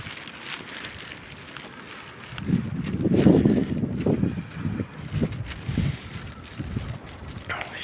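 Winter wind blows snow through the streets of Orenburg in a blizzard, a steady roaring rush that swells into heavier gusts midway and keeps buffeting close and loud.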